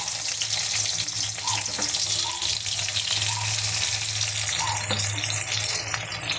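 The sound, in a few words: onion frying in a wok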